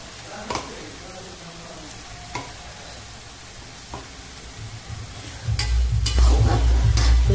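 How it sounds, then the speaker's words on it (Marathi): Masala frying in oil on low heat for an egg curry, a soft steady sizzle with a few sharp stirring clicks, then louder scraping and stirring near the end, with no talking. "तुम्ही बघू शकता मी कमी आचेवरती हा मसाला भाजत आहे"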